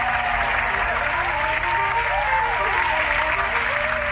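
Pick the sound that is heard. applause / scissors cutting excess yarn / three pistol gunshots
applause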